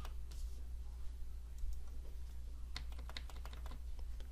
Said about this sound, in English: Use my arrow keys and bring it down.